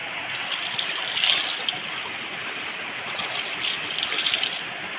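Water of a stream at Akasa Ganga rushing steadily and close, a continuous broadband gush that swells slightly in places, with no talk.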